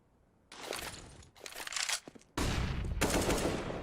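Gunfire in a professional Counter-Strike: Global Offensive match at DreamHack Masters Dallas 2019: loud, sharp shots come in several separate bursts, some spread out and some closely spaced, close and punchy.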